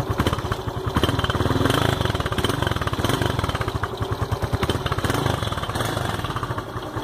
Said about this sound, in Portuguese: Vamos ligar a moto aqui pra ver como é que ficou o som